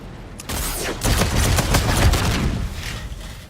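Sustained automatic fire from the R3KT weapon in a shooter video game, a dense rapid burst that starts after a brief pause and continues loudly to the end, with no voices.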